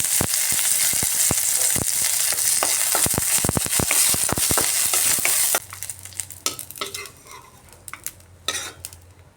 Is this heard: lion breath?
no